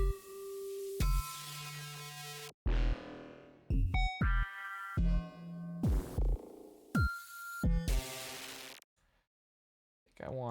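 Chopped, squishy synth notes from Phase Plant with a disperser effect start and stop in bursts, some tonal and buzzy, others smeared and sputtering, with short silences between and a quiet tail.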